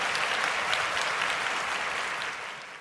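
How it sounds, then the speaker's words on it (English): A dense round of applause from a crowd, steady and loud, with clapping that thins and fades toward the end. "I'm giving you guys a round of applause"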